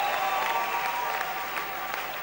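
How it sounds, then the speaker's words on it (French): A church congregation applauds loudly at a sermon, a dense continuous roar of clapping that holds steady throughout the short moment. "Nous l'acclamons très fort"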